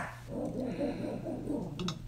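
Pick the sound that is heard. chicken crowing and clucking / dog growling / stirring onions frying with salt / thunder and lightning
dog growling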